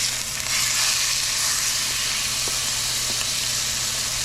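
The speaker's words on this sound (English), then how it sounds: "I'm going in skin side down, and you want to hear that real nice sizzle right when you go in." Chicken pieces laid skin-side down in hot rice bran oil sizzle with a steady, dense hiss. The frying stays even throughout, with a low hum beneath it.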